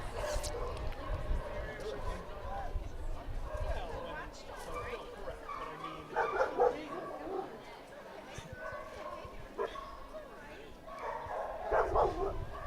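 Dogs bark and yip at an animal shelter's meet-and-greet area, a busy mix of nearby and distant barks in short bursts under steady human chatter.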